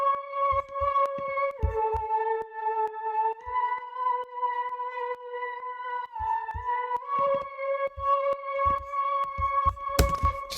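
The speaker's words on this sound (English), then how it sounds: "I added this lead, which sounds like this without processing" A dry, unprocessed synth lead patch from Sky Keys for a dark R&B sample plays a slow melody of sustained, harmonically rich notes, with short low thumps and clicks scattered beneath and a noisy burst near the end.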